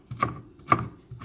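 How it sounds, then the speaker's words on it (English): Three evenly spaced knife chops through red onions hit a cutting board, crisp and close, with a faint rustle between strikes. "I'm gonna chop these up and add it also."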